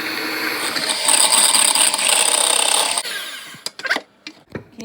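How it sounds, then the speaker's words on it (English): A single egg whisked by hand until foamy for Yorkshire puddings gives a steady, loud scratchy whirring for about three seconds, then stops and is followed by a few scattered taps and knocks. "I'm going to whisk the egg up by itself, just the egg, nothing else, and I'm going to whisk it until it's nice and foamy"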